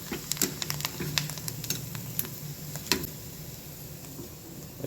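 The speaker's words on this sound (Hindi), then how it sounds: "ये रेडीमेड पापड़ है, सिर्फ हम इसे घर पे तल रहे हैं" Ready-made papad frying in a kadhai of oil at home gives a steady soft sizzle, with scattered sharp crackles and pops through the frying.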